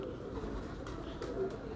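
Aged breeding pigeons coo softly at close range, a low murmuring sound over a steady background hiss.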